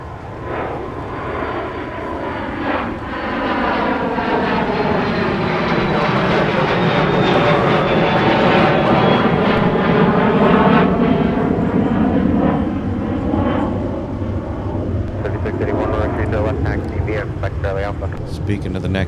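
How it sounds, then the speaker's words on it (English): A Southwest Airlines Boeing 737 MAX 8 arrives at a winter airport, its jet engine roar swelling loud and close as it passes, then easing, with wind noise on the microphone. "this is Southwest Airlines 3806 in from St. Louis, operated by a 737 MAX 8"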